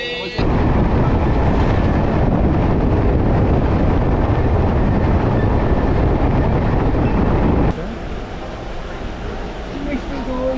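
Steady loud rumble of the Dhauli Express from Kolkata toward Puri heard from inside a carriage, broad wheel and track roar that drops abruptly to a quieter hum near the end.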